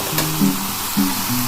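Mutton curry with potatoes being sautéed in a pan, a short burst of low sizzling with a couple of scraping stirs, close and fairly loud, no voices.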